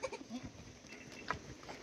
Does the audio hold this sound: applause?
no